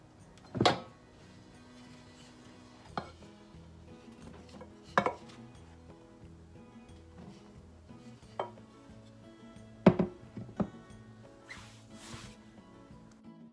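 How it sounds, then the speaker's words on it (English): Flour mixture being worked into a Jamaican Easter spice bun batter: a handful of sharp, separate knocks and clinks against the bowl, spaced several seconds apart over a quiet kitchen background. "we are going to combine this, so we're gradually adding our flour mixture"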